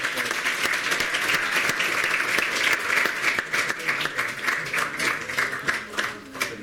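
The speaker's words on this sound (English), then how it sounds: "And just a fun round of applause." An audience bursts into warm applause after a medical lecture on fluid management, lively, closely packed clapping at a steady level that continues for several seconds.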